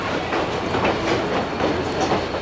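A train runs along a railroad with a continuous rumbling roar and rhythmic clickety-clack from the wheels, close and steady for the whole stretch without any voices.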